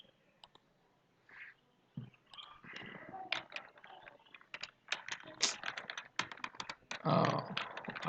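Typing on a computer keyboard produces irregular bursts of quick clicks and taps, close and fairly quiet, with brief pauses between runs of keystrokes.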